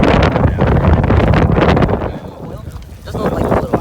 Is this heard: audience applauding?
no